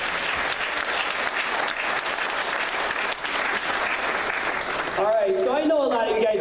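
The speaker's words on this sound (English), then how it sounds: "can we get a round of applause for Dr. Mike?" A crowd claps steadily and loudly, the applause filling the room for several seconds before a few cheers and voices rise near the end.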